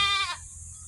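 A single short, nasal bleat from a male goat, fairly close and clear, cutting off after a moment and leaving quiet background.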